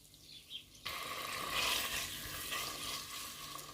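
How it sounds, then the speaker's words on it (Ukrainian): Chicken sizzles and crackles in a hot pan with about two tablespoons of oil, starting after a brief quiet moment and continuing steadily with faint stirring noises. "жарю його пару хвилиночок"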